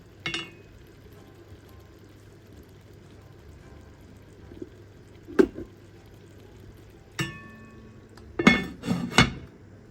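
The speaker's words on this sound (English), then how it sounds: "I've combined those boiled potatoes and it's just simmering away" A pot of boiled potatoes and chicken for Sindhi biryani simmering quietly under a low steady hum, interrupted by several sharp clinks and knocks of a utensil against the pot, with a cluster of clanks near the end.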